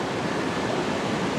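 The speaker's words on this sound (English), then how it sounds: "More waves down along the beach." Ocean waves wash along the beach at Cancun as a dense, continuous roar of surf, loud and steady throughout, with no voices.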